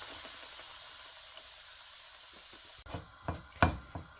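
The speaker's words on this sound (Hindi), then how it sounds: "सूजी को आहिस्ता आहिस्ता से मीडियम लो पे करके भूनना है ताकि जले ना, और ऐसे साथ में चम्मच हिलाते जाना है।" A spoon stirring semolina as it roasts in melted ghee, a low hiss followed by a few close scraping knocks of metal on the pan near the end.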